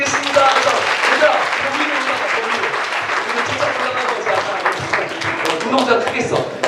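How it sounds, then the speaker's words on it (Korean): A church congregation at a pastors' seminary session claps loudly in a sustained, dense burst of applause that fills the whole stretch, with voices mixed in underneath. "우리 주님께 영광의 박수를 돌리겠습니다"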